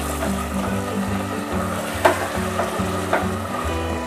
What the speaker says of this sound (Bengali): মাংসটা আমার কষতে কষতে চারিদিকে তেল বেরিয়ে গেছে